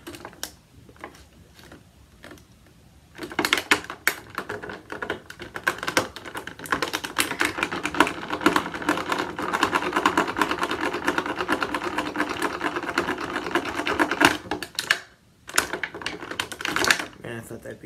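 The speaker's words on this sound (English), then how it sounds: "So now we will free him from the plastic stuff." A NECA Godzilla 1954 reissue figure is worked free of its plastic packaging with busy crinkling, clicking and rattling that starts after a quiet opening, runs close and fairly loud, and pauses briefly near the end.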